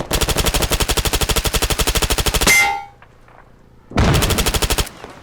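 MP7 submachine gun fired through railings in ARMA 3: a loud, rapid automatic burst of evenly spaced shots, a brief ringing pause, then a second shorter burst.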